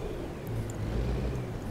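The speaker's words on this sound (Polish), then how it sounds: "Lubię odgłos tych silników Kenwortha." Engine of an old Kenworth truck in American Truck Simulator, a low steady diesel drone at moderate volume, heard alone and without variation over a short stretch.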